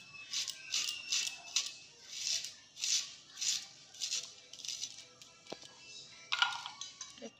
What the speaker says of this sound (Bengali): পেঁয়াজ আমি সরু সরু করে সুন্দর করে কেটে নিয়েছি